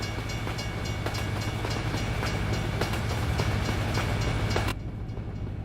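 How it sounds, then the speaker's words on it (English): A loud passing train rumbles continuously with rhythmic clattering of wheels over rail joints, close and steady before cutting off abruptly near the end. "Man, that train is loud."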